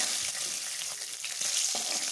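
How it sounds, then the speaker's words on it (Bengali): Bhola fish frying in hot oil gives a low, hissing sizzle with a few faint bubbling pops, quiet and steady, with no voices present. "মাছগুলো এই যে ভেজে নিচ্ছি একদম লাল লাল করে"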